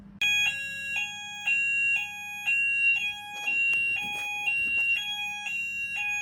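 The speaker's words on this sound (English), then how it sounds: "This is the second time this alarm's gone off today." Electronic alarm in a London room sounding a loud repeating chime pattern, sharp bell-like tones pulsing in an even rhythm for the full stretch, with faint clattering in the background.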